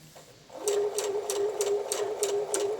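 A sewing machine hems a shirt with a steady, rapid mechanical stitching rhythm after a short pause, close and moderately loud, with no talking.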